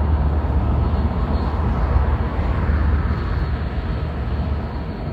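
A long goods train rumbles past on the line near the Peak Forest Tramway in Derbyshire, a loud, steady low roar sustained throughout with no voices.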